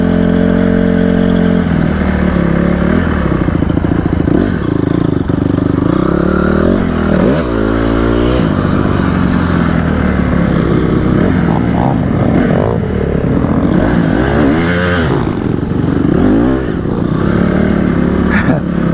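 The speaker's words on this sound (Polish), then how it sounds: "Teraz jedziemy za chłopaczkiem na bardzo dymiącym pitbike'u." A very smoky pit bike engine revs hard and loud while riding, its pitch rising and falling steadily throughout, with scraping and clatter mixed in and no clear talk over it.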